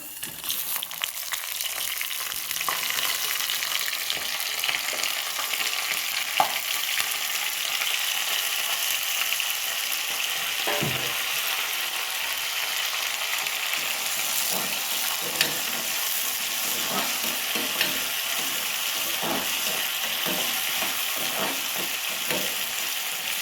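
Tempering spices for kuthirai vaali pongal sizzle loudly and steadily in hot oil, a dense continuous crackle with occasional stirring clicks and no talking.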